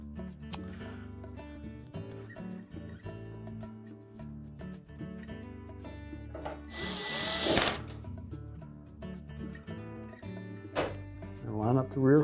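A retaining screw is driven into a Frigidaire range overlay with a power driver, a loud whirring burst of a second or so standing out over a busy, tonal background.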